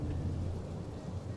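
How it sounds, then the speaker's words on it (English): Stormy weather in the video game Life is Strange: Double Exposure, a steady low rumble of thunder blended with continuous rain, loud and unbroken throughout with no voices. "oh God, the storm"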